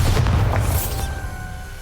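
Bombarda explosion spell cast in Hogwarts Legacy on Nintendo Switch: a short low boom with a burst of crackle at the start, then a fading magical tone ringing out alone.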